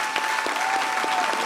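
Steady applause from a crowd at a town hall meeting in Bucks County, Pennsylvania, dense and continuous clapping throughout with no voices standing out.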